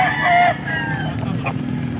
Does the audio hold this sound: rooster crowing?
yes